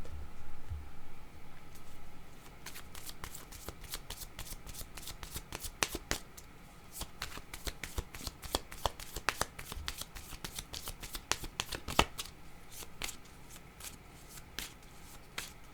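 Tarot cards shuffled by hand in a quiet room, a long run of soft riffling flicks and slaps in uneven bursts, close and fairly faint, with no talking.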